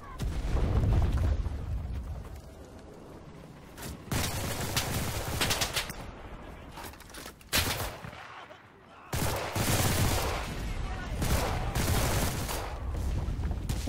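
Sustained gunfire and bursts of shooting in the World War II shooter game Enlisted, with heavy booms and dense battle noise filling the whole stretch, loud and continuous with a brief dip in the middle.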